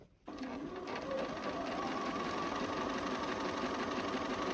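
A sewing machine stitches curved and straight seams of a double wedding ring quilt, starting abruptly and running as a steady close, even mechanical whir for several seconds.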